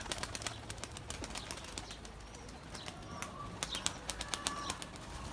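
Quick fluttering bursts of wingbeats from a Mardin pigeon taking flight, a little distant, with scattered soft chirps in the background.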